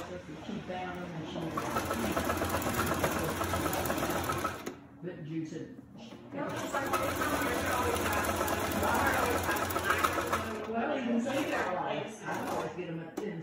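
A sewing machine stitches a fabric mask in two long close runs of rapid, steady whirring broken by a short pause, while a person talks over it.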